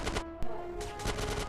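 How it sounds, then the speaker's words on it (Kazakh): Rapid bursts of gunfire from GTA San Andreas on Android crackle in quick succession, fairly quiet and sharp, like an automatic weapon firing in short volleys. "Ана жерде атыс болып жатыр."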